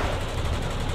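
Sustained rapid gunfire aimed at an anti-tank gun during an assault in the war video game Foxhole, a dense, continuous rattle of shots filling the whole moment without pause.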